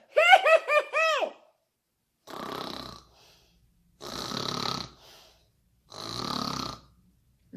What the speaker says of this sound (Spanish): Ronquido y ronquido no se despertó.